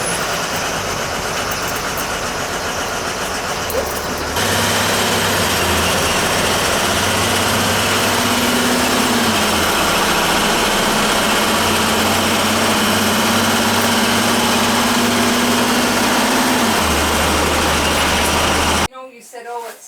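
An oil boiler that will not fire because of a bad control, its motor running with a steady, loud mechanical drone and low hum that holds for most of the stretch before cutting off abruptly near the end.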